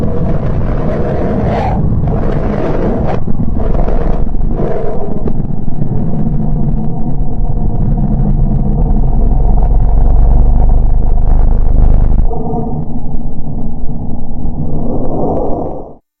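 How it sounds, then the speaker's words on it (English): Space-recording sonification of the planet Mercury: a deep, roaring rumble with gusty whooshing swells that fades near the end. "Sound of Mercury."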